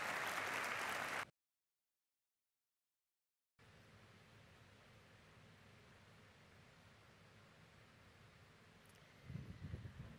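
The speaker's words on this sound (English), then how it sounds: "Let's give them a round of applause for that poem." Applause at a university summer graduation ceremony after a poem is read, a short loud burst of clapping, a gap of silence, then faint continuous crowd clapping and rustle that swells slightly at the end.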